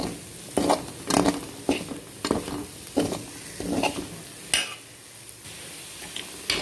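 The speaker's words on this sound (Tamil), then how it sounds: "இது நம்ம சிம்மிலே வச்சு நல்லா முருகலாக வறுத்துக்கலாம்" Potato pieces coated in masala fry in hot oil on a low flame, a steady sizzle broken by repeated scraping stirs of a spoon against the pan, close up.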